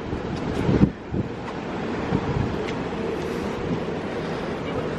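Steady wind buffets the microphone on the deck of the P&O cruise ship Britannia in the Caribbean, a low rumbling gust with a sharp thump near the start, continuous and fairly quiet.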